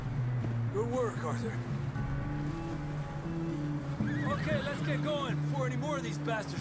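Horse neighing in the video game Red Dead Redemption 2, two loud whinnies with rising and falling pitch over a droning background, someone talking alongside.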